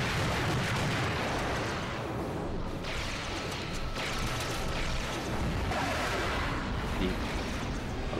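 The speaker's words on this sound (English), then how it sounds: "The larger rocket launchers, once again, very good at taking out lots of enemies at once." Rocket launcher blasts from the Global Defence Force video game erupt in dense, overlapping explosions, loud and nearly continuous with deep rumbling booms and crashing bursts.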